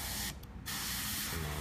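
An airbrush sprays green paint in a steady close hiss, cutting out briefly for a moment before resuming, with no voices.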